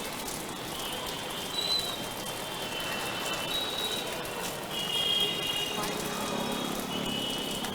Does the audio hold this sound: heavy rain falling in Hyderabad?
yes